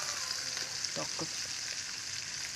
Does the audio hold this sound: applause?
no